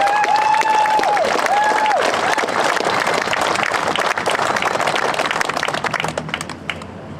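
Crowd at a Longview, Washington rally applauds veterans, a dense sustained burst of clapping that stays loud throughout, with a few cheers at the start and a voice faintly under it early on.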